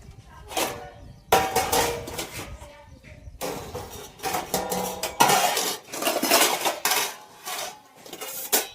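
Dishes and pots being carried and handled at home, with clanking metal vessels in bursts of clattering and scraping, separated by short pauses.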